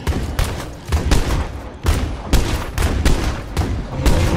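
Video game gunfire in State of Decay 2: rapid, heavy shots fire in repeated bursts with short gaps, loud and close throughout.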